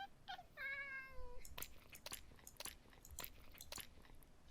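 A cat meows in a video game, one rising harmonic meow followed by a run of sharp crunchy clicks and taps, close and fairly loud with no talking.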